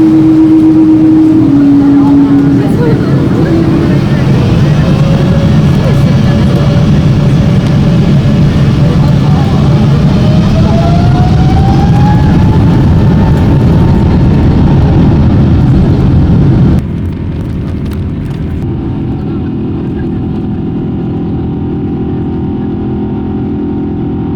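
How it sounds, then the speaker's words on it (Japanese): A passenger airliner's engines roar as the plane readies for takeoff on a flight from Nagoya to Seoul Incheon, a loud, steady cabin drone with a faint rising whine, dropping abruptly to a quieter hum near the end. "当機はまもなく離陸いたします"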